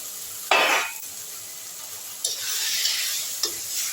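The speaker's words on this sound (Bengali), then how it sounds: "কচুগুলো দিয়ে আমি প্রায় 3 মিনিট কষবো" Fried taro pieces are tossed into sizzling spices and stirred, a soft continuous fry broken by a loud clatter of the spoon against the pot, then renewed scraping and sizzling up close.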